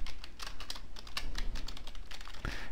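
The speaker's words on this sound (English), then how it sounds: "if I go here and I type in some data" Rapid typing on a computer keyboard, a close, quiet stream of irregular key clicks with no pauses.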